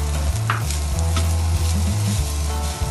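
Fried rice with a fried egg being stirred in a pan, with steady sizzling and repeated scraping strokes of the spatula, close and continuous with no talk.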